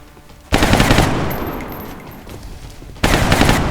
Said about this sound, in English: Rapid fire Gauss rifle actually working out pretty ideal there.